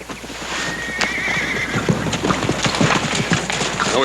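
Horse hooves clop in a quick, steady rhythm, with a brief whinny near the start, close and moderately loud over a low background hum.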